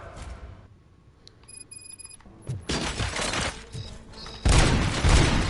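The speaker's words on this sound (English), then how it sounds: "Gunshots?" Gunfire in the RoboCop Rogue City video game: a short electronic beeping, then a burst of rapid shots and a loud final volley, all dense and close with no talk.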